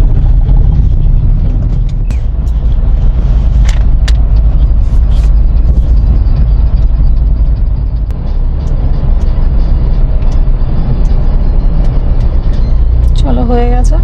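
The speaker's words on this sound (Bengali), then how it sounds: "এখানে কিন্তু লরির বেশ লম্বা লাইন আছে।" Lorries and cars idle in a queue at Dankuni toll plaza, a steady low engine rumble close by with a brief air-brake hiss near the end; no one speaks.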